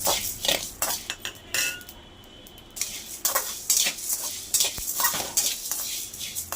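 Fennel seeds dry-roasted in a pan for a chicken curry masala, a spoon stirring and scraping against the metal in close, irregular strokes with light clinks, with no talking.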